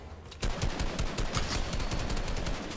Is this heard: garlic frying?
no